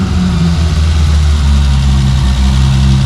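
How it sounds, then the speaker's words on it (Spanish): A BMW E30 engine, flood-damaged, idles loudly and close up, its low rumble slightly uneven and lumpy as if not all cylinders fire, with no voices. "Suena como que no van todos los cilindros"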